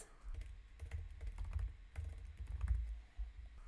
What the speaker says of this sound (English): if I go back to my text and type in